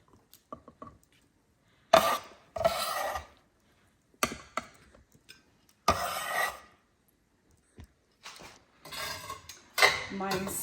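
Semolina is stirred and roasted in a pan for pineapple halva, with a spoon scraping and clinking against the metal in short irregular bursts separated by quiet gaps.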